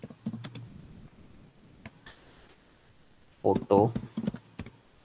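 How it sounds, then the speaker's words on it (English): Typing on a computer keyboard: scattered single keystroke clicks, then a quick cluster of taps near the end, close and crisp, with a brief spoken word between them. "Or I'll type skin spot"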